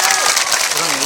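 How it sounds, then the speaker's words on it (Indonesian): Audience clapping at a Sundanese stage show in Rancaekek, a brief dense wash of many hands, loud and close, with a voice speaking over it. "Kalau bahagia tepuk tangan buat semua."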